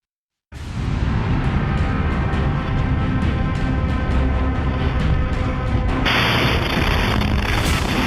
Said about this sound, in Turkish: acı bir fren sesi, kırılan camlar, paramparça kapı ve oradan oraya savrulan yolcular.